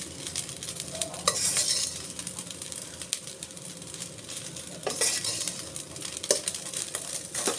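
Spatula stirring spinach rice with coriander in a pan, a continuous scraping and sizzling texture with several sharper utensil scrapes against the pan, close and steady, with no talk.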